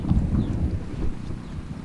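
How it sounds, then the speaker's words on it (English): Brief wind buffets the microphone beside a golf course pond, a low, steady rumble with gusty fluctuations and no voices. "Got a little bit of wind in my back"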